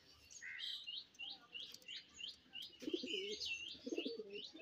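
Bezi pigeons call quietly nearby, with a run of short high chirps and, toward the end, a few low throaty coos, heard without any talk.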